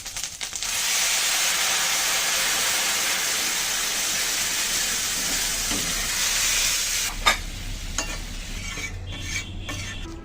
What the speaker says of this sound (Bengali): সব কিছু সুন্দর করে ভেজে নিলাম। এখন আমি ডাল দিয়ে দেবো।